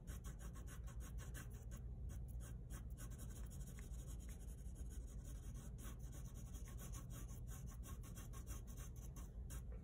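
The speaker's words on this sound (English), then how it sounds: "very easily and very quickly just do some light shading" Light pencil shading on paper while drawing a lemon, a steady soft scratchy rubbing of graphite strokes, close and continuous throughout with quick repeated strokes.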